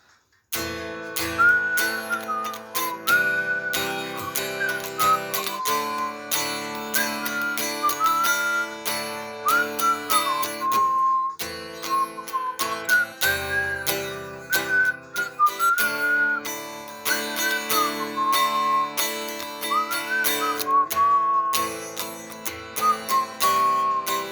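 A person whistles a wavering melody over instrumental backing music, phrases repeating throughout with short pauses between them.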